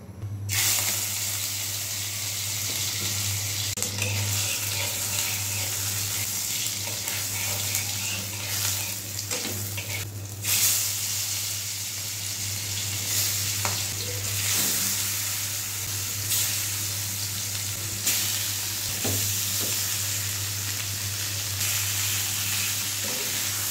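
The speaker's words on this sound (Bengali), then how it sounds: "মাছগুলো ভেজে নিই।" Spice-coated fish frying in a pan, a loud, constant hissing sizzle with scattered crackles and a few clatters, heard close over a low steady hum for a long stretch.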